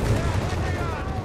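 A tank gun fires and strikes a Hellcat tank destroyer in Company of Heroes 3, heard as dense, booming battle fire under a talking voice.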